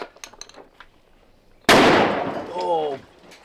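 A .50 caliber rifle fires at a cinder block: one sudden, very loud close blast that rings out and decays over a second, with people talking briefly before and a voice reacting afterward.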